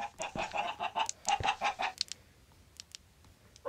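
Chickens in a Minecraft-style block game give a quick run of clipped, close clucks and squawks, then a few sparse fainter calls, with no talk over them.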